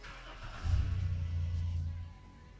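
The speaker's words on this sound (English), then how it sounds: "We're gonna start the vehicle up, test our live data, check our voltage, make sure the alternator is charging up" A 2008-2010 Dodge Grand Caravan engine catches and settles into a steady low idle, loud and close, running for about a second and a half before easing down.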